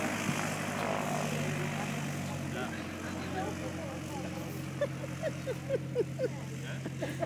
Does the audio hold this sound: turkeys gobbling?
no